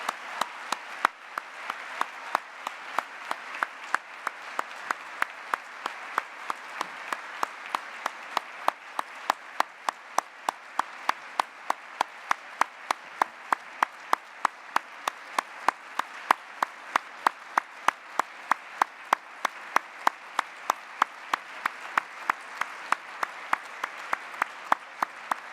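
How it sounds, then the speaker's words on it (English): Steady applause from a crowd at an MIT Solve event, many hands clapping evenly and continuously for the whole stretch, fairly close and sustained. "This round of applause was to celebrate him."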